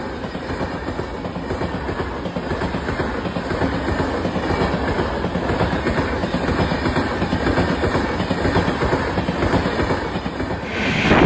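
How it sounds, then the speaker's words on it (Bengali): A passenger train on rails rounds a bend before Muragachha station in Nadia, West Bengal, with a steady loud rumble and rolling wheel clatter throughout and no voices. "মুড়াগাছা স্টেশন ঢোকার আগে এটাই হচ্ছে ট্রেনের দ্বিতীয় টার্ন"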